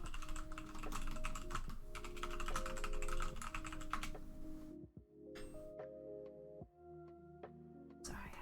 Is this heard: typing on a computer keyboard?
yes